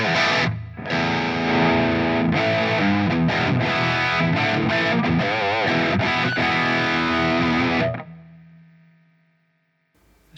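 Heavily distorted electric guitar played through a Roar amplifier while its volume knob is turned, a loud dense chugging tone for about eight seconds that then cuts to a fading ring and near silence.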